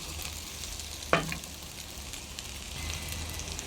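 Okra frying uncovered in a pan, a soft continuous sizzle with one sharp clack of a spatula against the pan near the start, quiet and close with no talking.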